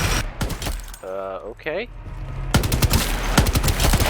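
Heavy-weapon gunfire in the shooter game Shatterline, rapid machine-gun bursts at the start and a dense, loud stream of shots in the second half, with a short spoken word and a synthetic game tone in between.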